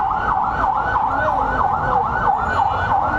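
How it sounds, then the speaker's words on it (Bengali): An ambulance siren wails loud and close on a busy road, steadily cycling up and down in pitch, with faint traffic rumble underneath. "রাস্তায় শুধু অ্যাম্বুলেন্স আর অ্যাম্বুলেন্স"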